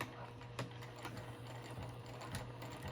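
A sewing machine runs a short back tack on a zipper pouch, a steady low mechanical hum with a few faint clicks and thumps, fairly quiet throughout.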